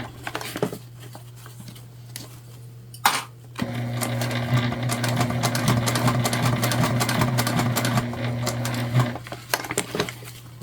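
Sewing machine top stitching a book bag tote, a steady close whirring run of needle strokes lasting several seconds after a brief start, with quieter handling and stops before and after.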